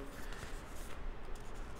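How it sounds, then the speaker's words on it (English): Tarot cards being rearranged and shuffled by hand, a close, steady papery rustling and sliding that continues for the whole moment, with no one speaking. "I'm just rearranging the cards here"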